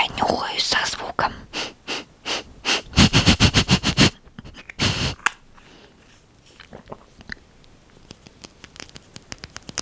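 Rapid, close breathy sniffs of nail polish from a cosmetic bag, a quick run of short bursts followed by quieter soft rustling and handling.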